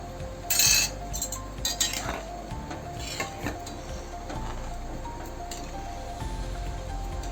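A metal spoon clinks and scrapes against a pot as washed rice is stirred into boiling water for vatana bhaat, a pea rice dish. The taps are irregular over a steady kitchen background hum.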